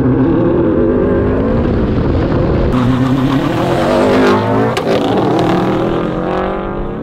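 Two Subaru WRX STI cars, one Stage 1 tuned and one stock, launch and accelerate hard in a street race, with a loud, close engine roar and rising revs throughout and no talk over it.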